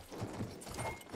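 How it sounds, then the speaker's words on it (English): Horse hooves in the video game Battlefield 1, a quick run of muffled clip-clop beats over a busy game background. "We're on a horse, baby."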